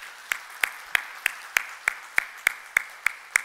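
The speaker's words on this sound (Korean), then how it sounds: "우리 진심으로 우리 마음을 담아서 함께 감사의 박수 하겠습니다." A church congregation claps in thanks, heard here as a steady, evenly spaced series of sharp, loud claps, about three per second, with no talk over them.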